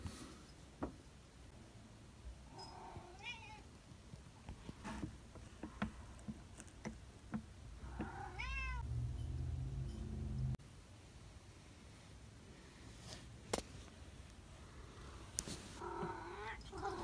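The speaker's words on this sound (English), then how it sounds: "Cat wants attention." A cat meows repeatedly for attention, several short rising calls close to the microphone, with some purring and handling noises in a quiet indoor room.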